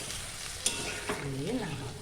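Cooking food stirred in a pan right after water is poured in, giving a soft close sizzle with a sharp clink of the utensil against the pan and a bubbling, wavering tone toward the end.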